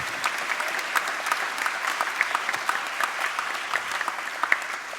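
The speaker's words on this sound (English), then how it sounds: "Everybody give him a round of applause." At a patriotic outdoor concert, an audience gives a 92-year-old veteran a steady round of applause. The dense clapping carries on evenly throughout with no talking.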